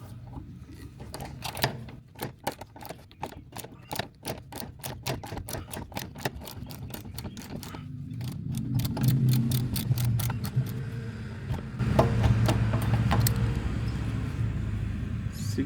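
A seized bolt on a junkyard shop truck is worked loose with a ratcheting wrench after penetrating oil, giving a long series of sharp, evenly spaced clicks, with a low rumbling hum building up behind them.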